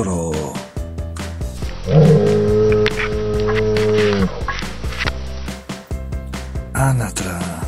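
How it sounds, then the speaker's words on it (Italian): A bull lets out a long, loud bellowing moo lasting about two seconds, with other farm sounds and tones before and after. "Toro."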